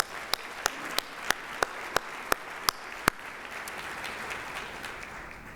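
Audience applause at a business alliance annual meeting in New Orleans, quiet and diffuse, with about nine sharp, evenly spaced loud claps standing out in the first three seconds before a softer ongoing patter.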